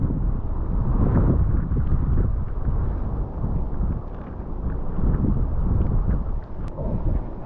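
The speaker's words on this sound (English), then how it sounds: "Look at how strong the wind is blowing that grass around." Strong outdoor wind blows across grass and buffets the microphone with a heavy, continuous low roar that rises and falls in gusts, with no talking.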